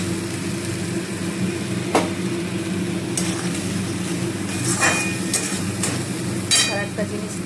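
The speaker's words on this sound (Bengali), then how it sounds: "এবারে আলুটার সাথে এটা একটু ভালো করে নাড়াচাড়া করে নেব" Potatoes being stirred in a pan with turmeric, cumin and chilli for a vegetarian banana-flower dish, with a continuous sizzle under sharp metallic scrapes and clinks of the spoon at irregular intervals.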